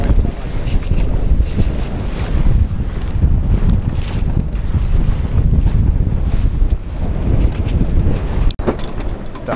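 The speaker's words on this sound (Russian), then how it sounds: "Ветер не уменьшается." Strong wind roars without a break across a sailing yacht out on the water, with heavy rushing gusts, sloshing waves and buffeting wind noise on the microphone. One sharp knock or bump stands out near the end. No one speaks.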